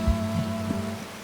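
Steady rain hisses over the farm in Farming Simulator 25, a constant wash of patter layered over a low engine drone.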